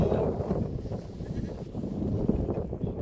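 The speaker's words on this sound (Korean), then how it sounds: "안녕, 염소." Goat bleating at a goat farm, the calls rising out of steady low-pitched background noise over about three seconds, fairly close, with no clear speech.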